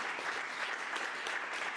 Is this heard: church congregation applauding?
yes